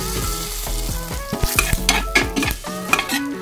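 Dried anchovies sizzle as they fry in oil in a pan while a utensil stirs and scrapes them, giving repeated clinks over the steady crackle.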